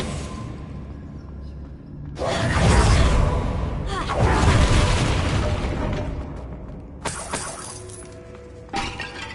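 A fire spell is cast in the Hogwarts Legacy video game, giving two loud bursts with a crackling, shattering blast, then brief sharper impacts later on.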